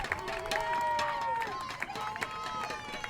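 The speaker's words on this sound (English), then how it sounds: "And the crowd goes wild." Crowd cheering at a women's ultimate frisbee game between Atlanta Soul and Austin Torch, a steady roar of voices with whistles and claps at middle distance.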